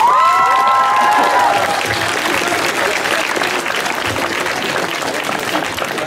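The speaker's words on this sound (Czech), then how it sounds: "A poprosím velký potlesk pro zpěváka." A crowd at a school's last-bell celebration applauds the singer with loud, dense clapping and some cheering and shouting, opening with a brief sung or whistled tone before the applause carries on steadily.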